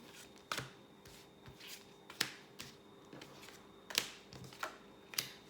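Tarot cards are shuffled and drawn for a five-card spread: a quiet series of sharp, close card flicks and snaps spaced roughly every half second, alone against a low background hum.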